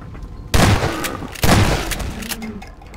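Two loud, close shotgun blasts in Half-Life 2, about a second apart, each a sharp boom with a short ringing tail, followed by fainter game sounds.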